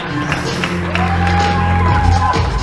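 Spectators at a women's volleyball match in an indoor hall raise a sustained roar of cheering and shouting, a dense crowd swell with a tonal horn or whistle running through it.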